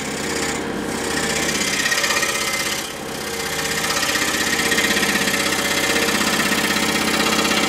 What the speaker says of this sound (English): keep that saw going. Don't slow it down on these tight turns.